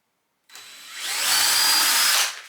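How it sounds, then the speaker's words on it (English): A power drill starts abruptly after a moment of silence, whirring steadily and growing slightly louder as it bores a screw hole through a wooden tabletop, then cuts off. "I'm just going to drill through here just to drill a hole for the hex screws to go in."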